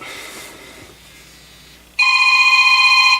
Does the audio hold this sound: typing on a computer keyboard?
no